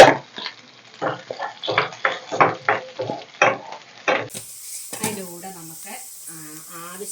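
Two onions sliced into thin rounds frying in a pan for a tamarind curry, with soft sizzling and rhythmic scraping strokes of a spoon stirring, under someone speaking.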